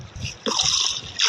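Water splashing and trickling as a character swims in the Minecraft video game, with short bursts of splashing close up and a faint murmur underneath.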